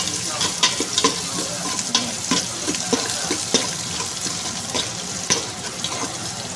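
Onions sautéing in a pan with garlic for chicken tinola, a steady sizzle broken by repeated scraping stirs of the spatula at an irregular rhythm, close and fairly loud with no talking.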